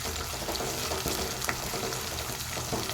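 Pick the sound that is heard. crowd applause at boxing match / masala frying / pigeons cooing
masala frying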